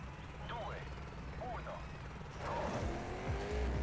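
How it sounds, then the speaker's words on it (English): Car engine droning in Trackmania Turbo, a steady mid-level hum with rising whine sweeps and brief gear-like chirps, the engine growing louder toward the end. "My engine's still on."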